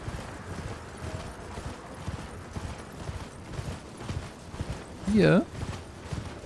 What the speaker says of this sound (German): man muss dann hier an der Mauer entlang reiten